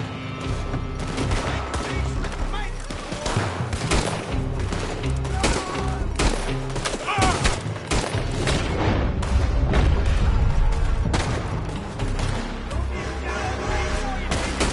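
Dense gunfire and booming explosions from a PS4 shooter game roar loudly and continuously, with bursts of rapid fire and heavy impacts throughout, and voices shouting faintly under the battle.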